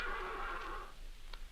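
A horse in a 1930s radio drama whinnies, a shrill, fading neigh about a second long, then quiet with a faint tap, heard alone without speech.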